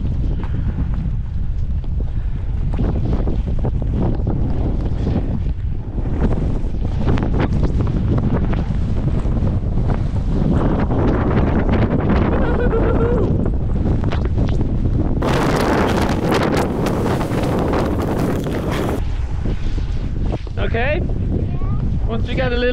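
Heavy wind buffets the microphone in a constant roaring rumble on a mountain at Whistler, with gusts swelling and fading throughout.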